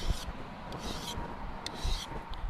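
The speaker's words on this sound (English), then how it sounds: "The way that these mill files are made, they're made to just grind in one direction." A mill file rasps in one direction across the steel blade of a Mora Classic No 1 knife, giving quiet, steady scraping strokes in an even rhythm with no talking.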